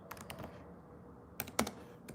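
Typing on a computer keyboard, irregular bursts of crisp clicking keystrokes, close and fairly quiet, with a pause mid-way before a louder cluster of key presses.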